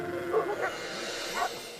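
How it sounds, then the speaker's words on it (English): A few short barks from Maremma sheepdogs some distance away sounding an alarm, three or four yips spaced irregularly against a quiet outdoor background. "Some stay with the herd, others bark the alarm, and a few run to investigate."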